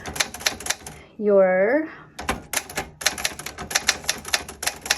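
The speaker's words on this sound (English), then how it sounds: "So you just hit margin release, finish your word, and then go back to the next line." Keys clack on a 1966 Olivetti-Underwood 21 manual typewriter in quick uneven bursts, loud and close, with a brief bell-like ringing tone early on and someone talking between strokes.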